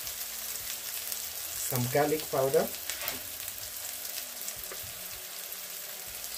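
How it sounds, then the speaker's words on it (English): Capsicum and onions fry in a pan with a steady, quiet sizzle throughout, while a voice speaks briefly over it near the middle. "So onto my capsicum and frying onions"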